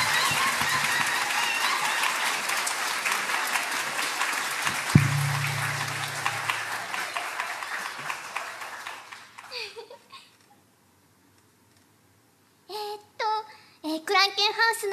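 Dense audience applause fills a live concert hall as a band's vocalist is welcomed onstage, sustained for several seconds before fading out, followed by silence and then scattered short bursts of sound.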